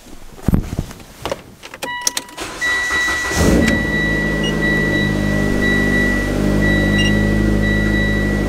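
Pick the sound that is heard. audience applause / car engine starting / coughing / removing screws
car engine starting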